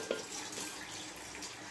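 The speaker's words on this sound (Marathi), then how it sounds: "त्याच्यात पाणी टाकून घेऊया" Water poured into a pot of washed dal and rice set to soak for dosa batter, a steady faint splashing stream running throughout, close by.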